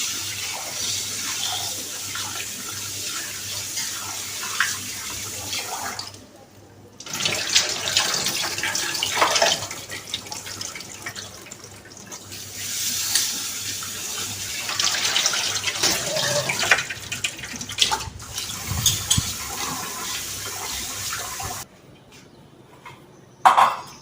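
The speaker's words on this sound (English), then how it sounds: "Wash rice thoroughly because we are not going to again throw off all the water." Rice is washed by hand in water for Moghlai biryani, with running tap water and sloshing, swishing grains in a bowl, continuous and close, broken by a few short pauses.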